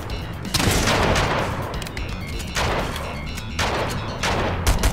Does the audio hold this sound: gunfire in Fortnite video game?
yes